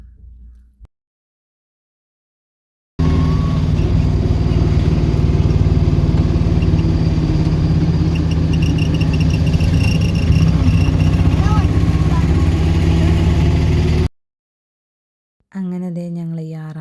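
Engine of an auto-rickshaw running steadily throughout a ride, a loud continuous mid-pitched hum with road noise, cutting off abruptly before a brief burst of sound at the end.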